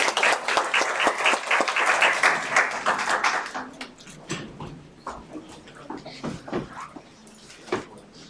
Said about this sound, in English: Please welcome them with a big applause.